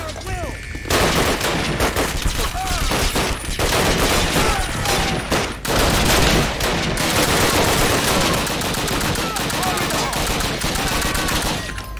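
Dense, continuous gunfire from Call of Duty: United Offensive, with rapid automatic bursts and explosive shots layered over one another, loud and close for the whole stretch, broken only by brief gaps.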